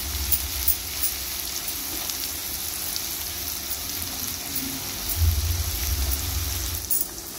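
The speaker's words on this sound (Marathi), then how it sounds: "हे चांगलं परतून घेऊया" Turmeric, red chili powder and masala being sautéed in a pan for egg rice, giving a steady close sizzle with light stirring scrapes and a brief low thump or two, with no talking.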